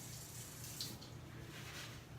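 Warm water runs steadily from a tap into a sink as a glue smear is washed off during burlap wreath crafting, a constant broadband hiss with no talk over it.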